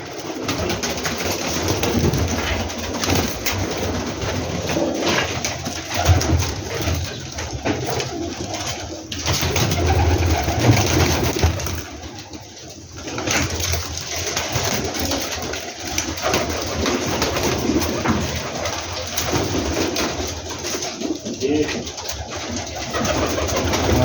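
Black male Teddy pigeons from a newly started breeding line coo continuously and fairly loudly at close range for the whole stretch, with no voices over them.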